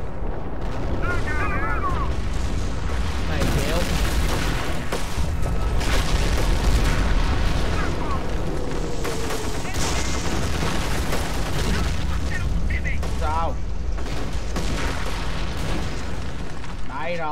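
Artillery cannons fire in the World War II strategy game Company of Heroes, heavy booms and blasts packed densely over battle noise while someone talks over the gunfire throughout.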